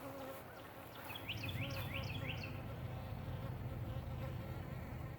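Honey bees buzz faintly around an open hive during an inspection, a soft, steady hum under low rumbling background noise, with a quick series of chirps partway through.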